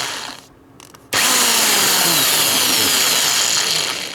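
A power drill whirs loudly and steadily after a brief quiet pause, drilling small starter holes in a Fender Telecaster guitar body, running on without a break to the end.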